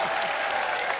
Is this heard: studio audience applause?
yes